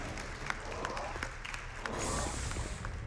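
A crowd applauds at a speedrun event, with dense, continuous clapping that swells slightly toward the end, heard from within the room.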